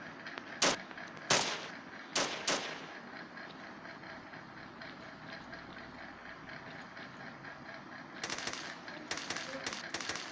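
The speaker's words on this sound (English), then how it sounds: "He's shooting me like I'm a lollipop." Gunfire in the shooter video game Kuboom comes as sharp, quick cracks in clusters near the start and again toward the end, heard fairly faintly over a low, steady background drone.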